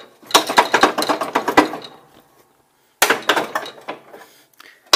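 Metal pins pulled from a riding mower deck, a quick run of sharp metallic clanks and taps close by, a pause, then a second burst of clattering knocks.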